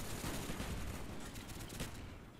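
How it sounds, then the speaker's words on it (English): Video game gunfire, dense rapid bursts of shots layered together in a continuous loud barrage with no talk. "Just gunfire everywhere."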